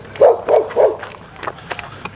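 Fluffy puppies at a campground in Guilford County, North Carolina give three quick, close, high yips in a row, then quieter scattered yaps and whimpers.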